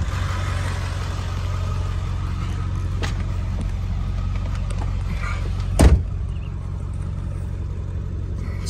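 A 2002 Ford F350 with the 7.3 Powerstroke diesel idles in a low, steady rumble from inside the 4x4 truck, with a couple of sharp clicks and a brief thump partway through.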